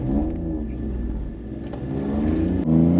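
A small budget car on R-Comp tyres revs hard and accelerates in a drag race. The engine drones loudly and continuously, climbing in pitch through a quick gear change, with no speech.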